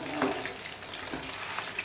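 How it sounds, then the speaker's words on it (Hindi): Chicken pakora frying in hot oil over a low flame, a steady dense sizzle with soft crackles and occasional bursts, close and continuous throughout. "अभी अच्छी तरह से इसको फ्राई होने देंगे"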